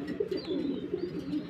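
Pigeons coo in a loft of breeding pairs sitting on eggs, a steady low rolling murmur that runs through the whole short moment at close range, with no talk over it.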